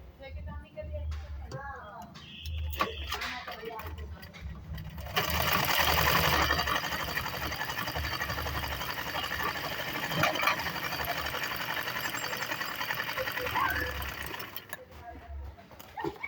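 A sewing machine stitches a blouse, whirring continuously and close for most of the stretch after some lighter handling at the start, while a voice talks over it.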